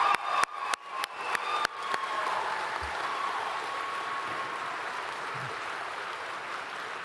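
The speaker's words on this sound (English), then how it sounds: "Please give everyone a round of applause." A commencement audience claps at a graduation ceremony, with a few loud close claps at first and then sustained, dense applause filling a large hall.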